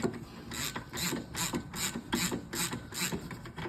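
A hand ratchet clicks in quick, even bursts of strokes, close and clear, while the nut is worked off the brake disc of a VL Commodore.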